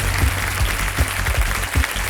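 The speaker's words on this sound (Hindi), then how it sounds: "जोरदार तालियों से मैं चाहता हूँ कि उनका स्वागत किया जाए" A studio audience on the quiz show Kaun Banega Crorepati applauds to welcome contestants, loud continuous clapping with a few heavier bursts, close and filling the whole moment.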